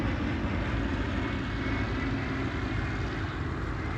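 A P-2 Neptune patrol aircraft at an airshow, its engines giving a continuous broad droning roar, steady and fairly distant, with no voices.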